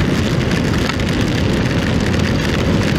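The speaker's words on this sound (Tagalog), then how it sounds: "Lakas ng ulan." Steady, dense downpour of heavy rain, a constant loud hiss with no pauses and no voices.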